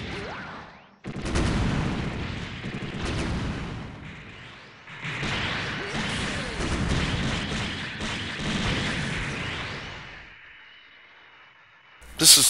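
Rapid, heavy beam-cannon fire from the Gundam Leopard Destroy in SD Gundam Online, sustained blasts and booms almost throughout, fading near the end before a final sharp burst.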